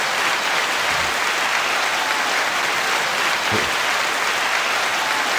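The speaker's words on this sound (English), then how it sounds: "9 second applause." Sustained, dense audience applause at a live podcast taping greeting a guest, steady and loud throughout before cutting off at the end.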